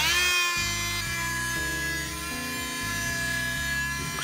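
A power saw fitted with an LED light cuts a standard wooden batten, giving a loud, continuous motor whine whose pitch shifts in small steps as the blade bites, with no talking over it.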